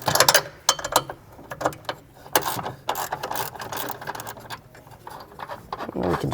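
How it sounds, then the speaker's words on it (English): A wrench backs out a 16mm bolt on the torque arm of a Porsche Cayenne 955/957, heard as close, irregular metallic clicks and ratcheting taps in uneven bursts, with no talking. "we're now going to remove the second bolt"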